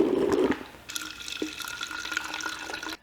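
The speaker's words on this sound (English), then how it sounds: "Then we fill the rest up with DI water." Tap water, specifically deionized water, runs steadily into a bottle as it fills up toward the 32-ounce mark while mixing snow foam car soap, a continuous close splashing stream that stops abruptly at the end.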